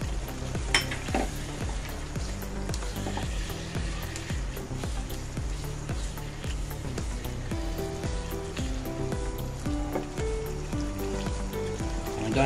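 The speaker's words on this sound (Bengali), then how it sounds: "চিকেনগুলো দিয়ে আমি এখন ভালোভাবে কষিয়ে নিব" Chicken pieces fry in a pan with a few whole green chilies, giving a steady, close sizzle with scraping stirs, while background music plays throughout.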